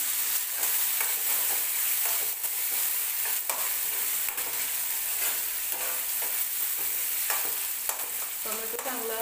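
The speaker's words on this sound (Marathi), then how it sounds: "याच्यामध्ये आपण टोमॅटो टाकूया" Chopped tomato hisses loudly in a hot pan with roasted onion, a dense, steady sizzle broken by scraping stirs and light clinks, close up with no talking.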